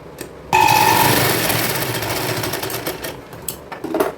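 A sewing machine stitches a twice-folded saree hem in one continuous burst of fast, buzzing needle strokes close by, starting abruptly and running for several seconds before slowing near the end.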